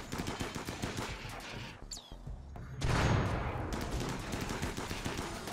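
Uranium slug turrets in Rimworld firing a rapid, dense stream of sharp shots that rattle on continuously, swell louder partway through and stay close and intense, with no talking.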